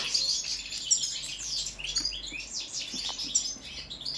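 A young male Balkan goldfinch (Carduelis balcanica), kept on a table indoors, sings a lively stream of high twittering chirps and trills, very close and clear, with no talking.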